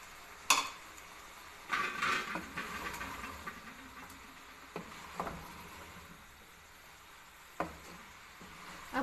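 Green onions added to a pan and fried for a restaurant-style Chinese pulao, with a steady low sizzle broken by a few sharp metallic clanks of a utensil scraping and stirring against the pan.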